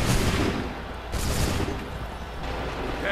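A musket volley in the Assassin's Creed 3 video game: a dense, loud crackle of many shots fired almost together, followed by renewed bursts of ragged gunfire over about three seconds.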